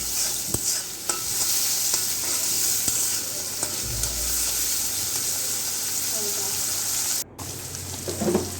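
Loud, continuous frying sizzle with occasional utensil scrapes and taps as chicken is stirred, close by and steady throughout.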